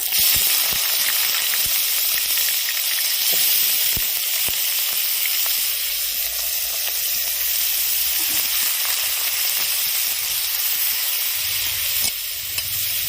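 Banana stem fries in hot oil with a loud, continuous hiss, with sharp spattering pops bursting most densely early on and recurring throughout.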